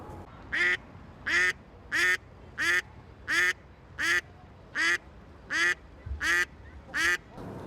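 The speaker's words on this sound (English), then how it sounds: "I'm joined by an extremely noisy duck today." A loud duck on the North Yorkshire coast quacks about ten times, each call evenly spaced and close by, with only faint background between them.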